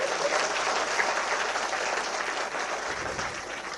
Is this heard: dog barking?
no